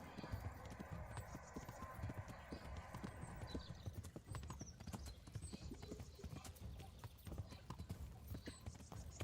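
Horse hooves clip-clopping in the medieval video game Kingdom Come: Deliverance, a steady, quick rhythm of hoofbeats on a road with faint ambient noise around them.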